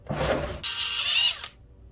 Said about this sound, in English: So we're going to have to drill out the bottom and put some lead in here.